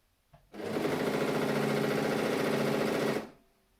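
A new sewing machine runs a straight line of stitching through stretch fabric in one steady, even whir of about three seconds, close and clear, starting and stopping abruptly, with no talk.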